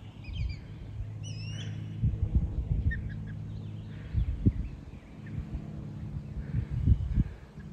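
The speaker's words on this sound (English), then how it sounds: "You can hear the babies up there." High chirps from baby birds in a nest up in a tree in the Florida Panhandle countryside, a few brief thin calls above a low rumbling background with intermittent thumps.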